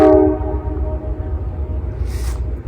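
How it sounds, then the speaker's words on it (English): A freight train rolls past close by at night in Conneaut, Ohio, opening with a loud horn blast that fades into a steady rumble and rattle of wagons. "You can hear the bell clinking on that train."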